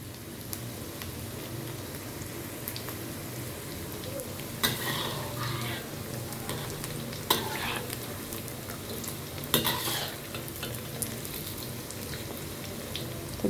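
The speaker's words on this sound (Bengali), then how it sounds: "বড় কড়াইটা দিলে নাড়তে আর কি একটু সুবিধা" Food for an iftar meal fries in a large wok in a home kitchen, a steady soft sizzle broken by occasional scraping stirs and clinks of the spatula against the pan.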